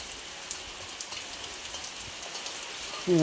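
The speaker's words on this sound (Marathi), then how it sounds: "कंटिन्यू पाऊस पडतोय" Steady rain patters continuously on a surface, a soft even hiss with scattered drops, and a brief sharper sound at the very end.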